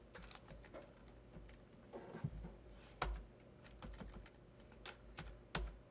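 Matrix entries being keyed into a calculator keypad, a run of soft, close plastic button taps at an irregular pace, quiet with a few slightly firmer presses.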